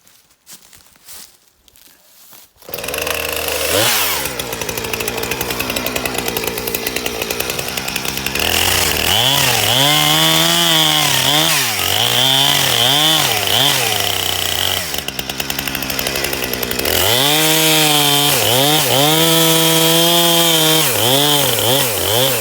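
Chainsaw cutting a felling notch into a partly rotten tree, starting abruptly after a quiet moment and then running loud and close, its engine pitch repeatedly rising and falling as the bar bites into the wood.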